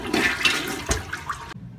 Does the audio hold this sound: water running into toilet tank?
yes